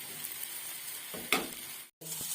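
Pavo fish sizzles steadily in a hot pan, a dense frying hiss with a louder burst and stirring scrape near the middle, then a brief silence before the sizzle resumes.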